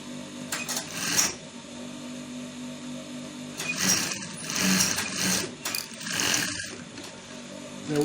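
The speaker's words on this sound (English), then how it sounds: "Then you sew 1/2 inch down again." A sewing machine stitches a V-neck seam in short mechanical bursts of rapid clattering, pausing between runs, with faint handling noises in a quiet room and no one talking.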